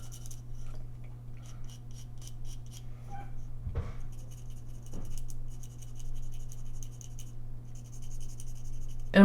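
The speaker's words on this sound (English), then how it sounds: "Now I'm gonna flip it over. I'm gonna draw in my triangles." A pencil draws triangles on a bassoon reed, making faint, close scratchy strokes that come in sparse clusters over a steady low hum, with one or two louder scrapes partway through.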